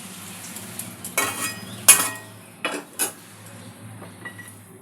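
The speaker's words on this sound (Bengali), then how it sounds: "ফোড়নটা একটু ভেজে নেব।" Whole spices, including two cardamom pods, fry in oil in a pan over a low-to-medium gas flame, a soft steady sizzle broken by several sharp clinks and scrapes of a stirring utensil against the pan.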